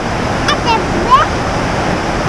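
A steady, loud rush of falling water from a big waterfall in New York fills the scene, a broad continuous roar nearby with faint chirps over it.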